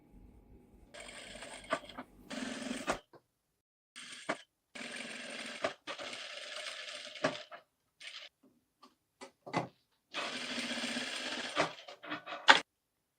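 A sewing machine stitches contrast piping onto a blouse neck in several bursts of fast mechanical whirring, each a second or two long and separated by pauses, close and clear with no talking.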